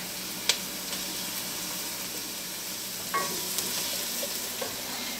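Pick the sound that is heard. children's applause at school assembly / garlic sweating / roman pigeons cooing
garlic sweating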